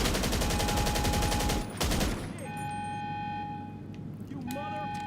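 A GTA 5 Online gun magazine emptied in a rapid, dense burst of shots for nearly two seconds, then cut off, leaving game engine hum and faint beeps.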